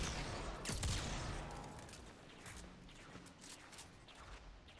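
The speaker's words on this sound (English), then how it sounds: "Oh my god, I hear that rapid fire snipe." Rapid-fire sniper rifle shots in Destiny 2 during a Spire dungeon run, with a loud shot near the start followed by quieter, scattered cracks and low rumble in a faint mix.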